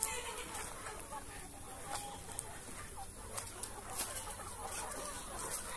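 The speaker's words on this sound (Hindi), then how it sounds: "देखिए यहाँ अलग अलग मुर्गे ही मुर्गे हैं भरे हुए।" Chickens cluck and squawk in a busy chorus on a poultry farm, fairly faint, with someone talking over the birds in Hindi.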